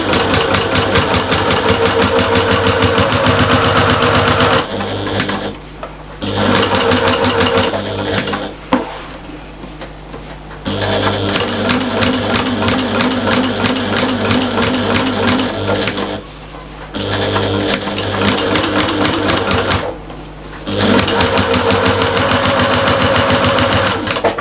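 A sewing machine runs in long, steady bursts while top stitching along the curve of a large fabric shopper bag, loud and close, pausing several times between runs.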